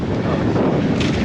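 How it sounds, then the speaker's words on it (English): Strong wind buffets the microphone at a beach entry in Brazil on a blown-out day, a loud, continuous rumbling roar with no break across the whole moment. "It's really windy."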